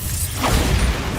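A Bombarda blast spell goes off in the wizarding game Hogwarts Legacy, a short, loud, booming burst with a whooshing sweep through it, with little or no talk.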